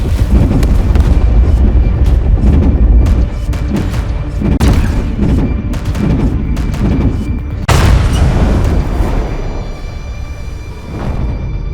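Starship guns firing in Warhammer 40000: Chaos Gate, heavy booming volleys and repeated cannon blasts rolling over one another in a loud, continuous barrage with deep rumble.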